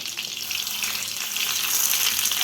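Steady loud sizzling and crackling of cinnamon, cloves and bay leaf frying in hot oil for paneer butter masala, continuous and close up, with no voices.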